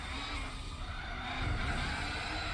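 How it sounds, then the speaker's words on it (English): Tyres skidding as a race car snaps into oversteer under braking in Gran Turismo, a steady broadband scrub over engine rumble lasting a couple of seconds, loud and close with no talk. "a little bit of a snap oversteer there from the car on the brakes"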